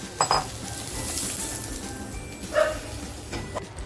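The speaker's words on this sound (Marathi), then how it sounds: "बघा आपली भेंडी छान फ्राय झालेली आहे" Okra coated in besan fries in hot oil in a kadhai, a steady close sizzle broken by two clinks of a utensil against the pan.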